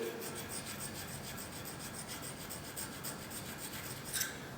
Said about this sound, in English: I'm trying to go nice and straight and just kind of lap and hone that edge a little bit